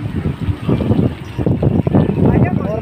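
Strong wind buffets the microphone outdoors on a Kanwar pilgrimage walk in Haridwar, a steady low roar that swells and dips beneath close voices of people talking.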